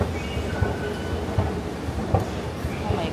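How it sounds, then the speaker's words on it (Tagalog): Steady rumble of a moving MRT commuter train from inside the car, with faint rhythmic rail clatter and occasional muffled voices in the background. "So sasakay na ako guys ng train."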